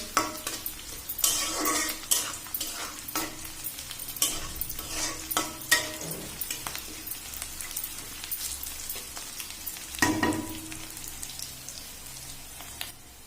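Heron meat fries in a pan, its steady sizzle broken by repeated scraping strokes of a spoon stirring the pieces, close up with no one talking.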